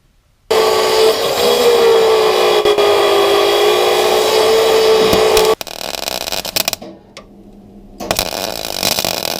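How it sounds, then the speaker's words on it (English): Sheet steel being cut with a power tool for a 1967 VW Beetle repair panel, a loud steady whining grind for about five seconds, then rougher intermittent cutting bursts with brief breaks. "So we'll cut some steel"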